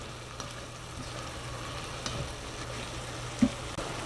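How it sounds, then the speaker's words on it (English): Braised pork belly with light soy sauce, fried shallots and minced garlic being stirred in a pan, a soft steady sizzle with occasional scraping clinks of the utensil, close and alone. "give a little stir,"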